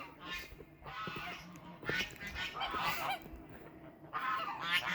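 Saddleback geese on a farm honk repeatedly in loud nasal bursts at close to moderate distance, several calls overlapping across the clip.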